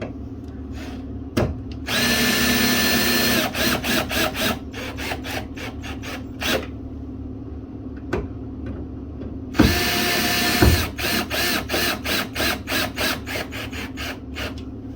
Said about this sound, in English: Take the drill.